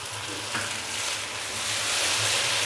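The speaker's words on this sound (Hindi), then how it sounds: "तो अभी मैं इसके अंदर 1 खाने का चम्मच भर के सोया सॉस डालूंगा" Chicken frying in a pan on high flame sizzles steadily as soy sauce goes in, a dense, close crackle that swells slightly louder toward the end, with no voices.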